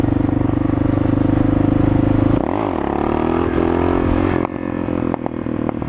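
A Suzuki DR650 single-cylinder motorcycle pulls a wheelie, its engine loud and close, thumping steadily, then dipping and swelling as the throttle is worked, with a rougher, choppier sound toward the end.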